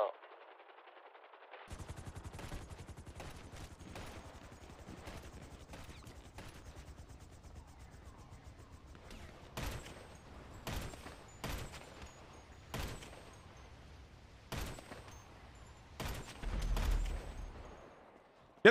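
Video game gunfire in sharp repeated bursts, some rapid automatic volleys and scattered single cracks over a steady low background, moderately loud, with a heavier thump near the end.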